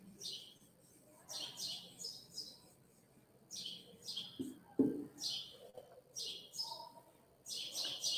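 Small birds chirp in repeated bright bursts of a few notes each, with short pauses between them, fairly close and clear over a quiet background hum.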